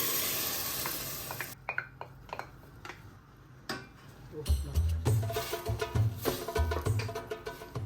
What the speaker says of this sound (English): Fry curry leaves and few slit green chilies. After a few minutes, or when it reduces spluttering, Add the tomato blend.